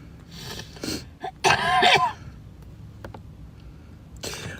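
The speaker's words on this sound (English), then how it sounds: "I'm coughing." A person coughs and clears their throat in a few rough, close bursts, with the loudest harsh hack in the middle and a quieter one near the end, separated by faint background noise during a live stream.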